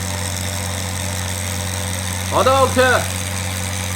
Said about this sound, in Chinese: 现在呢就加速最大马力啊，然后呢准备推到我们的红线位置，也就是我们的起飞速度啊